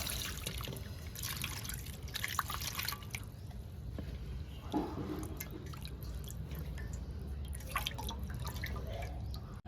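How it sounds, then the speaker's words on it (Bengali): A whole bottle gourd washed under running water, a close, steady trickle and dripping with small splashes throughout, no speech. "লাউটা গোটা ধুয়ে নেব"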